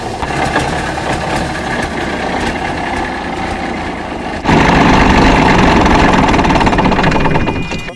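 A big Cummins diesel in a truck that sat for years in a cow paddock runs with a rough, steady clatter, then suddenly grows much louder and fuller for a few seconds before easing slightly.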